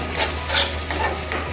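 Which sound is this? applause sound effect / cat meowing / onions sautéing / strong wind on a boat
onions sautéing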